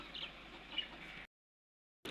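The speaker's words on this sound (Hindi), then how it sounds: "ये मुर्गी अंडा देने के लिए जगह बना रही है और ये अंडा दे रही है" A village hen clucks and fusses softly while settling to lay an egg, a close, low murmuring cackle with one sharper note, then a sudden cut to silence before the sound briefly returns.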